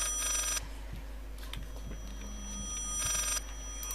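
An in-game telephone rings again in the horror video game Layers of Fear, two short bright rings spaced apart over steady low background hum, with no talk.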